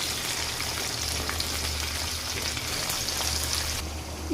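Garlic frying in hot oil for a mango pickle, a steady, dense sizzle that stays close and loud throughout with no talking.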